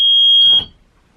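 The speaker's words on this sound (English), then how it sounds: "check the emergency exits, make sure that the buzzer comes on" A bus emergency exit buzzer sounds a single loud, shrill tone for about half a second, then cuts off into quiet handling noise.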